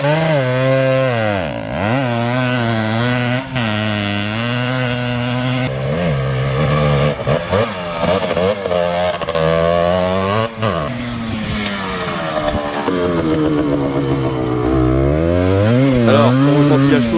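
A small Honda MTX motorcycle rides off at the start of a run on a leaf-covered track, its high, buzzing two-stroke engine revving up and down through the gears, loud and continuous throughout.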